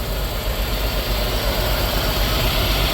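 A 1998 Mitsubishi 3000GT, running again after sitting for 12 years, idles smoothly and steadily right after its first start, a close, even engine drone with no voices.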